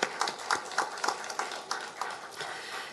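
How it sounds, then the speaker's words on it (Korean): A church congregation claps at a Thanksgiving Sunday evening service, the sharp claps falling in a quick, regular rhythm that starts loud and slowly fades over a few seconds. "뜨거운 박수로 영광 돌리겠습니다"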